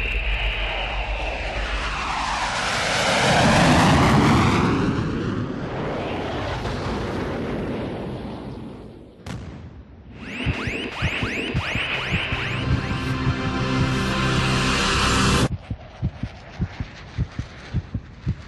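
The Bloodhound SSC land speed record car rolls on a desert track with a loud, roaring rush that swells and fades, then turns into a harsh, crackling mechanical clatter before ending in rhythmic thumps.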